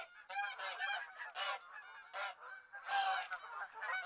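A flock of geese in theHunter: Call of the Wild honks continuously, many overlapping calls in quick uneven bursts, fairly quiet and at a moderate distance.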